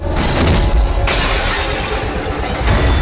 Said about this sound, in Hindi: शीशा तोड़ के गुंडा बाहर।